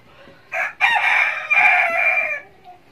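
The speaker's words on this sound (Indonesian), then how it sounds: "Aduh, ada suara ayam." A rooster gives one long, loud crow close by, lasting about two seconds, with a faint cluck just after. No one talks over it.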